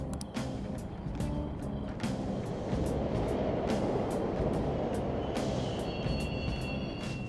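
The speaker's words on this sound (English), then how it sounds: "The trains are totally running." Subway trains rumble through a station in the video game Persona 5, a steady loud low roar with rattling and clatter building gradually, while a faint high tone enters near the end.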